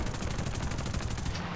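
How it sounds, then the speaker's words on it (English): Aircraft guns in War Thunder firing at an SB-2M bomber in a steady rapid burst, loud and continuous, with no talk over it. "So now I start shooting at him"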